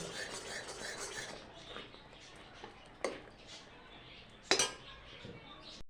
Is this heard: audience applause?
no